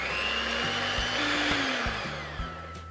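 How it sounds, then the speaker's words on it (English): Electric mixer running on low speed, beating eggs with a little vanilla in a bowl for a whole wheat carrot cake: a steady motor whine and hum that wavers slightly in pitch, close and continuous with no talking. "we'll beat this on low speed just to break up the eggs"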